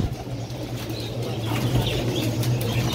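Pigeons at a Baghdad pigeon market beat their wings in a steady flurry of flapping, with a low mechanical hum and market bustle underneath and a few faint coos.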